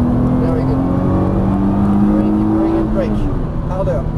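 A Nissan GT-R accelerating on a track, its engine a steady close drone rising in pitch, with spoken instructions over it.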